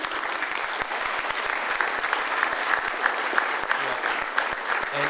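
Audience applause at an evening event in Melbourne, a steady dense wash of many hands clapping throughout, loud and sustained with no break.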